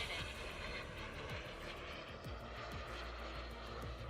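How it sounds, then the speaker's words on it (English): A twin-turbine RC jet with thrust vectoring lands, its steady, loud turbine roar and whine filling the air without a break and without voices. "I'm going to land with thrust vectoring on."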